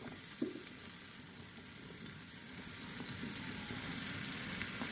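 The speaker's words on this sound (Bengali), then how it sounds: "ভালো করে নেড়ে নেব। দিয়ে দেবো আলু কুচি," Chopped potatoes fry in a pan while being stirred, a steady close sizzle with a scrape near the start and another soft knock toward the end, building slightly louder over time.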